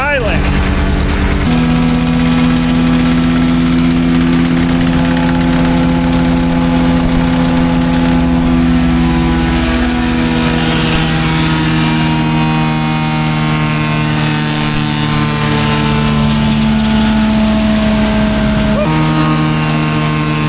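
A steady, loud mechanical whir from an old Asplundh JEX chuck-style wood chipper, with sustained humming tones and constant rushing aerodynamic noise from its spinning blades, running continuously without pause.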